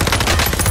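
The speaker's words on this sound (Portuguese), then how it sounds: "eles estão atirando todo mundo junto" Rapid gunfire in Call of Duty Warzone on the Rebirth Island Alcatraz map rattles in a loud, dense burst from several weapons firing at once, with no talk.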